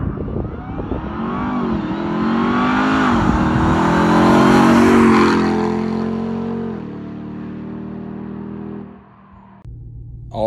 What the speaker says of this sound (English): This is my 2022 Ram TRX Hellcat truck.